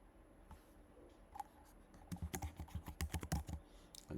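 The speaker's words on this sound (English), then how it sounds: "Now you're going to have to put in your Mac password." Keys on a Mac computer keyboard tapped in a quick burst to enter a password, close and clear, a few scattered clicks first and then a dense run of keystrokes with no talking.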